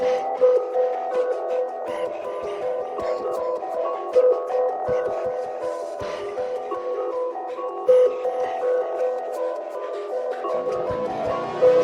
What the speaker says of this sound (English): I actually also added this percussion loop